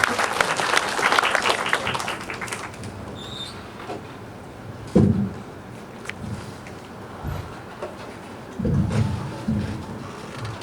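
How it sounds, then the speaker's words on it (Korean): Audience applause at a university talk concert, a dense wash of clapping that fades after about three seconds into scattered claps and murmur, with brief louder bursts later. "큰 박수 부탁드립니다."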